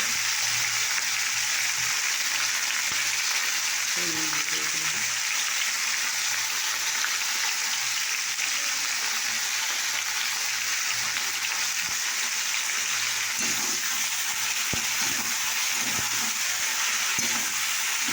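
Potatoes fry in a pan with a steady, close sizzling hiss that runs unbroken throughout, with a few faint stirring knocks partway through and no talking.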